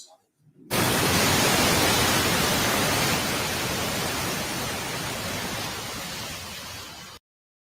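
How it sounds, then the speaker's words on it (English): A courtroom white noise machine switches on with an abrupt onset and hisses as a loud, steady, broadband rush for about six seconds before cutting off sharply into silence. "The white noise on."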